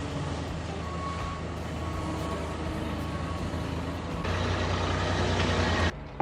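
A compact agricultural loader drives off, its steady engine drone running continuously with a low tonal hum, then shifting to a heavier, louder pitch near the end before cutting off abruptly.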